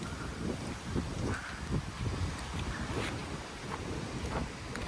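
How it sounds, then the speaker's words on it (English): Strong gusty wind roaring outdoors just after a storm, buffeting the microphone in continuous rumbling surges with no talk. "All this wind that just came all at once."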